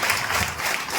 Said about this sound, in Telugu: ఒకసారి క్లాప్స్ కొడతాం సార్ అంతా